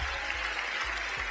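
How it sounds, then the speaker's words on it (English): Audience applause in a live touring magic show, greeting the magician's female assistant after a piercing illusion; a dense, steady wash of clapping fills the short moment. "Give her a round of applause."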